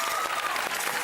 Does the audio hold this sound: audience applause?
yes